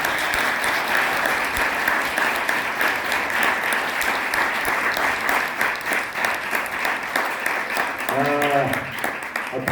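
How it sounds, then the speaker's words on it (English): An audience at a film screening Q&A gives sustained, dense applause to a guest actor, loud and even throughout, with a brief voice near the end. "Applause."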